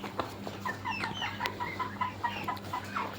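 Desi (native breed) chickens cluck repeatedly in short, overlapping bursts, with a steady low hum from farm equipment running underneath.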